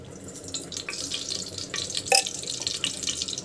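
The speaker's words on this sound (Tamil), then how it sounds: "ஆயில் வந்து போடணும்" Cooking oil poured into a pressure cooker in a village kitchen, a soft trickling, splashing sound with a few small clinks, fairly quiet and without talk.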